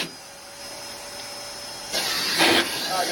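A vacuum lifter for pavers runs with a steady hissing suction drone that swells louder partway through, close and without speech.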